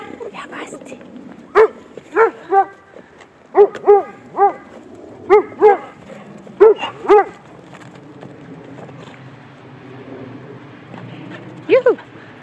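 A white dog barks sharply and repeatedly nearby, mostly in pairs and short clusters with brief pauses between them, over a faint background.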